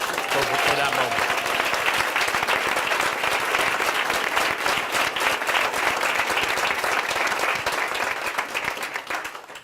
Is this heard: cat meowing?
no